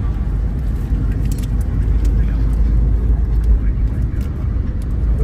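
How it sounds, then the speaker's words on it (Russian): Dense road traffic of many cars on a road toward the Upper Lars border crossing produces a steady, loud, low rumble of engines and tyres that runs unbroken throughout, with faint muffled voices underneath. "Ужас. Сколько машин."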